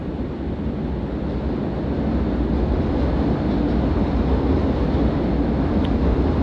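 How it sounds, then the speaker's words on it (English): A train passes nearby, a steady loud rumble and rolling roar that holds without a break, with no talk over it. "There's a train."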